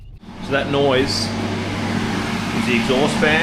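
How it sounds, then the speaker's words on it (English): Workshop exhaust fan running at a steady hum with a constant low drone throughout, close and fairly loud, while someone talks over it during a boat fibreglassing job on a Haines Hunter 580SLF rebuild. "the exhaust fan"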